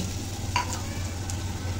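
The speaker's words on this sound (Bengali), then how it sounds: "এখন পেঁয়াজটাকে লাল লাল করে ভেজে নেব।" Chopped onions frying with bay leaf, cinnamon, cardamom, cloves, peppercorns and mace in a pan, giving a steady close sizzle with a few brief scraping stirs.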